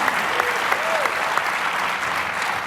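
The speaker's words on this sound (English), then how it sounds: "Another round of applause for Eric July, who's been hosting this thing today." A live crowd applauding host Eric July at a show in Orlando, a steady, full burst of clapping with a voice briefly audible beneath it.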